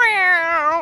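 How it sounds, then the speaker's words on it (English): A cat in the Bowser's Fury video game lets out one short, clear, close meow that rises slightly and then falls. "It's like feral cats."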